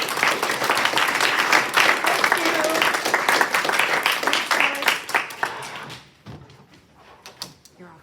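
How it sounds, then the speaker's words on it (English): An audience at a city council candidates forum applauds with dense, steady clapping for several seconds before it thins out and fades into scattered claps. "Thanks to all the candidates, so we can get a round of applause."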